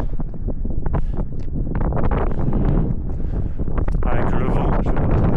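Strong gusting wind on an exposed alpine ridge buffets the microphone, roaring and rumbling loudly and continuously with bursts of harsher blowing near the end.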